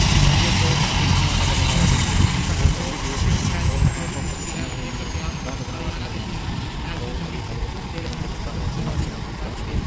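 A helicopter sits on the ground after landing as its rotors wind down, a loud steady engine whine and rotor wash with a slowly falling high tone, with crowd noise around it.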